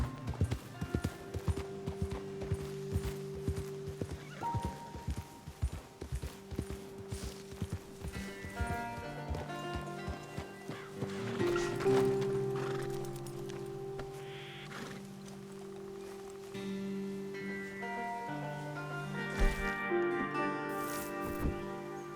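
Horse hooves gallop in steady clip-clop rhythm across a Red Dead Redemption 2 ride, close and continuous over a sustained musical drone, with a brief whinny midway.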